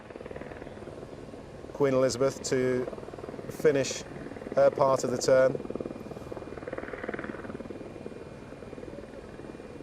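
A steady helicopter rotor and engine drone carries on through the whole clip, apparently from the aircraft filming Cunard's Queen liners in Liverpool, while a commentator talks over it in bursts.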